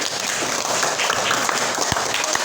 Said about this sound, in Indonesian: tepuk tangan untuk Lilis